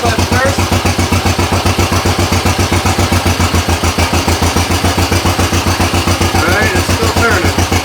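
A machine's engine running while its left steering clutch is tested, chugging in a fast, steady, even rhythm, close and loud throughout.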